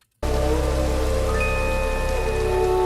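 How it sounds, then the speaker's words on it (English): Rain falling in Minecraft, a steady dense patter of raindrops that starts abruptly after a moment of silence and holds at an even, loud level with a faint tone layered in. "Snow and rain in the same spot."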